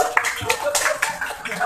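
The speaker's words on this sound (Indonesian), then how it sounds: "Tepuk tangan yang sekeras-kerasnya untuk Ki Sengkek." An audience claps for Ki Sengkek, a Tegal storyteller, at a public storytelling event; scattered claps run through the short stretch with voices over them.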